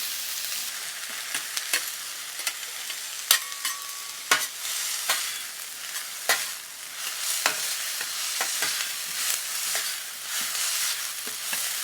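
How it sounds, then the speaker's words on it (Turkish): Onions and peppers sizzle on a hot grill pan with a bright, steady crackle, broken by sharp scraping ticks of stirring, close and continuous. "Soğanlarla biberleri ızgaraya koyuyorum."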